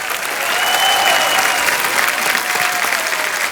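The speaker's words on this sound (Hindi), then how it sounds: "राहुल देव और करण कुंद्रा के लिए जोरदार तालियां।" Loud, dense studio audience applause on a Hindi comedy talk show, a continuous roar of many hands clapping at once with faint cheers running over it throughout.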